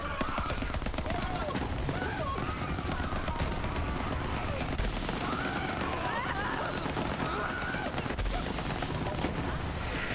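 Weapon fire from the video game Borderlands 3 rattles in a dense, continuous stream of rapid shots at an even level for ten seconds, with muffled game sounds beneath.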